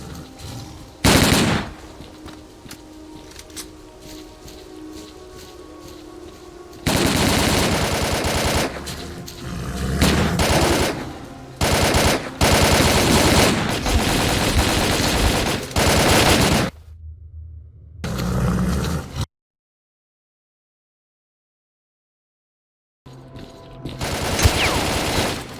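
Bursts of automatic gunfire from STALKER: Call of Pripyat rattle in loud sustained stretches, broken by short pauses and a few seconds of total silence before firing resumes.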